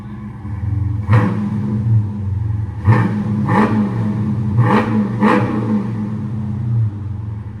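A Dodge Charger Scat Pack with a 6.4L HEMI V8 and an aftermarket exhaust idles with a deep rumble, then revs sharply about five times, each blip rising and falling back to idle, loud and close.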